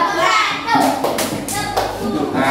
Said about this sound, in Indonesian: Terima kasih tepuk tangan untuk kelompok 1.